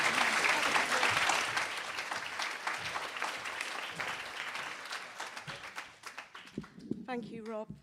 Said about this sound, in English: would you all like to just say a big thank you and clap your hands